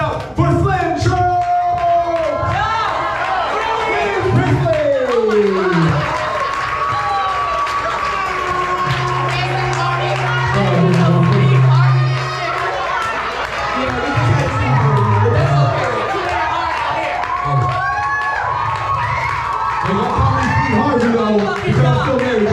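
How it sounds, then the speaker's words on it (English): Crowd at a poetry slam final cheering, whooping and clapping for a performer, a loud, sustained roar with shouted voices rising over steady applause throughout. "please clap it up for Slim Troll!"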